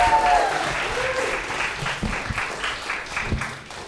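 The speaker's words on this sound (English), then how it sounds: "Please clap it up for Marc Ragovin." Audience applause for a comedian at a stand-up show in a hot upstairs room, a steady dense clapping that holds for several seconds and slowly tapers.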